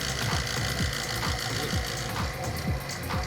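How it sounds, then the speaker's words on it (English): A vacuum pump pulls nitrogen out of a brand-new refrigerant recovery cylinder while a walk-in cooler's condenser unit is being relocated, giving a steady, loud mechanical chug with a rapid, regular pulsing rhythm throughout. "now we are vacuuming the recovery cylinder"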